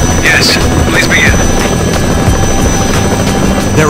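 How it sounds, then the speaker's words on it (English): Video game helicopter with a steady, loud rotor drone filling the whole clip, while game voices and tonal effects sound over it. "It's the chopper!"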